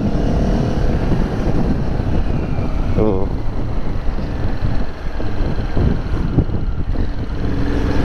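A motorcycle engine roars and revs under rushing wind noise, loud and close, with a brief spoken exclamation partway through.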